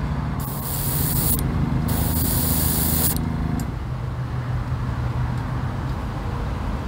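A spray can coats a model car body outdoors in gusty wind, with two long, loud, close hissing bursts over steady background wind and rumble.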